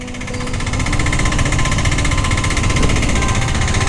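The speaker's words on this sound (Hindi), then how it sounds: "और अंदर मैं बाइक लेके आया हूँ।" A motorbike engine runs steadily and loud throughout, a close, throbbing drone with a continuous mechanical rattle as the bike rides into Jaisalmer Fort, with no talking.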